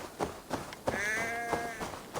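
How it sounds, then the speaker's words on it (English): A sheep in Assassin's Creed Valhalla lets out a single drawn-out, wavering bleat lasting about a second, fairly close, over a soft game ambience with faint breathy background sounds. "That sounds like a sheep."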